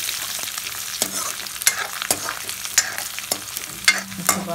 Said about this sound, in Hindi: हम इसमें लाल मिर्च डाल देंगे।